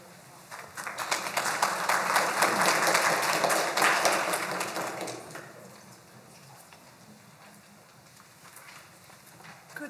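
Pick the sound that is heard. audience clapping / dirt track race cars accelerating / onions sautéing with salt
audience clapping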